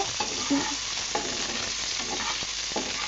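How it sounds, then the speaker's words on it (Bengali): Dried chillies, onion and garlic fry together in hot oil for a bhorta, a steady close sizzle with the scrape and clatter of repeated stirring. "এখন আমি ফার্স্টেই ভর্তার জন্য মরিচগুলো ভেজে নিচ্ছি। পেঁয়াজ রসুন শুকনো মরিচ সব একসাথে ভেজে নেব।"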